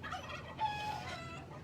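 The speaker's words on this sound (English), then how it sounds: "So you can see the rest of the hens are coming out, followed by the ducks." Farm poultry heard faintly as hens and ducks come out of their coop, with a turkey among them; a few soft, short calls over quiet background.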